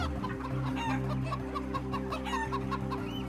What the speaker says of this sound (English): and hens in battery cages.